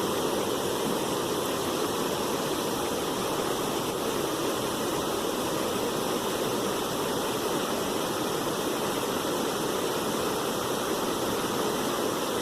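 A small creek trickles and babbles steadily throughout, a continuous close rush of flowing water with no voices.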